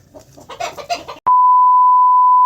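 Hens cluck briefly and closely on a poultry farm for just over a second. A loud, steady electronic beep follows and lasts to the end.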